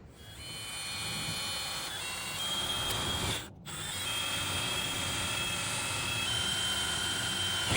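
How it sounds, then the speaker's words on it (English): Power drill boring through the wall of an RV, a steady high whining drone that briefly cuts out and restarts, fairly close and with no talking. "So I'm gonna go ahead and drill and install this and get the wire run."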